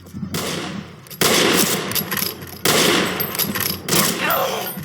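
Gunfire from a weapon in a western shooter video game, three loud, sharp bursts of shots each followed by ringing decay, with faint talk in the background.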